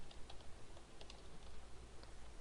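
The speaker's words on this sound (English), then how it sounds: "So I'm going to type, what should I type?" Typing on a computer keyboard in an office, faint scattered key clicks at an irregular pace over a low background hum, with no voices.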